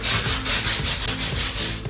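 Sandpaper scrubbing rough, layered paint in quick back-and-forth strokes, each stroke a close, gritty rasp in a steady rhythm with no voices.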